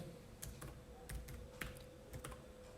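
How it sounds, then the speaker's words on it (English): Someone types an email address on a computer keyboard, making faint, irregular clicks of separate keystrokes in quick bursts against a quiet background, with no talking. "Then you just type in your email"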